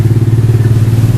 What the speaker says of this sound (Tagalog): tapos nagpupugak-pugak yung motor nyo